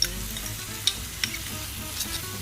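Crushed ginger and garlic frying with softened onions and shallots in a pan, a steady low sizzle with a few sharp clicks of a spoon stirring, close and moderately quiet, no talking.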